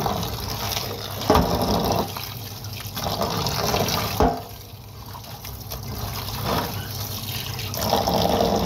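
Fresh noodles are washed under running tap water, a steady splashing flow into a sink with brief louder gushes and handling sounds, close and continuous.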